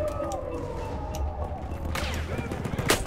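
Sniper and other gunfire in the Battlefield 1 war game, a dense rumbling battlefield with a few sharp loud cracks late on, over continuous low explosions and noise.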